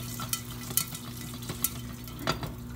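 Popcorn cooks in a pan, giving a continuous low sizzle broken by scattered sharp pops and brief stirring clatters, heard close and fairly quiet with no talking.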